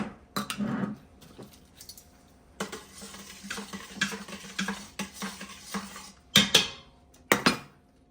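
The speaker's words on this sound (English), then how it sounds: "Just drop that in there and stir it around." A spoon stirs bouquet seasoning around a metal cooking pot, giving a few scraping swirls and sharp clinks against the sides, close and intermittent with quiet gaps between.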